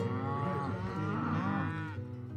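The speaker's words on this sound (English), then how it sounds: "These cows ended up being super curious, but they're little standoffish." Cattle on a farm moo in one long, loud, drawn-out call lasting a couple of seconds, close by and heard alone with no talk.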